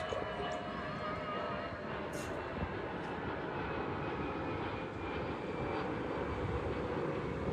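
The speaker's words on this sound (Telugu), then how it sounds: "అదిగో ఫ్లైట్ వస్తుంది చూడండి, భలే ఉంది. నాకు పై నుంచి వెళ్తుంది ఫ్లైట్." An airplane passes overhead near an airport, a broad, steady engine roar holding loud and constant throughout, with no voices over it.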